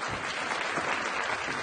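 A crowd applauds a shy newcomer in a continuous, even burst of dense clapping, close and full, with no voices standing out.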